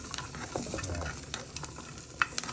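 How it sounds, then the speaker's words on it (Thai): Shallots, garlic and chilies dry-roast in a pan for a Thai curry, giving soft crackling and stirring scrapes with a few sharper ticks near the end, faint and close, with no voices. "จะคั่วหอมแดงหอมขาวแล้วก็พริก"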